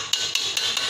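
A hammer taps four times at an even, unhurried pace on a washing machine motor's outer casing as a front-loading washer motor is put back together; the sharp, close metallic knocks come alone, with no talking.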